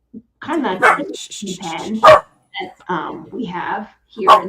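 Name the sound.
border collie dog barking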